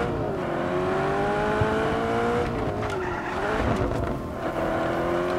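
Car driving in the video game Just Cause 3, a steady loud engine drone with shifting pitch and occasional tyre squeal, continuous and close with no talking.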